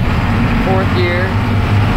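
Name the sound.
Blue Bird bus engine with 7.3 revving while driving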